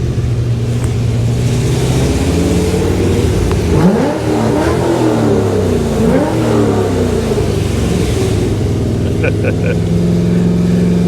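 A Corvette fitted with an aftermarket exhaust revs hard inside a tunnel at Pocono Raceway, loud rising and falling engine sweeps echoing close by, with a steady drone underneath.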